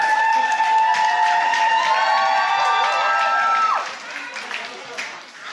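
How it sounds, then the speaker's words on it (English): A studio audience at a drag competition show cheers, whoops and applauds loudly for the contestants brought back onstage, the roar holding steady before dropping off sharply near the end into softer clapping. "one more round of applause for each and every one of them"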